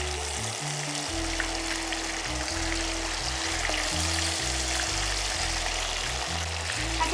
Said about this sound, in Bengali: বেশ অনেকটা তেলে, ভর্তি ভর্তি তেলেই মাংসগুলোকে ভাজতে হবে।